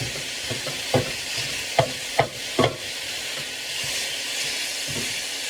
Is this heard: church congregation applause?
no